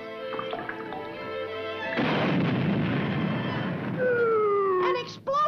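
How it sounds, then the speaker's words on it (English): Cartoon explosion from a 1960 Felix the Cat episode: a sudden broad, roaring blast that swells and sustains for a few seconds over music, then tails off into whistling tones. "An explosion!"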